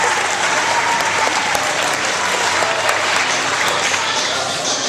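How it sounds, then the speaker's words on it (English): An audience at a meeting claps in sustained, dense applause, loud and steady for the whole stretch with no gaps, a few sharper individual claps standing out. "Give him a round of applause"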